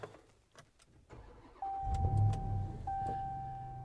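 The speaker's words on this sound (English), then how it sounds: "hitting the push button start and just letting you" A 2022 RAM TRX pickup fires up by push button, heard from inside the cab: a steady chime tone, then a deep engine rumble that swells and settles into a loud, throaty idle.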